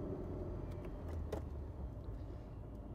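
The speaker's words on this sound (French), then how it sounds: "Et le bruit, comme vous le voyez, c'est un 4 cylindres" A Mercedes W123 four-cylinder engine idles steadily, heard from inside the car as an even low rumble with a few faint clicks over it.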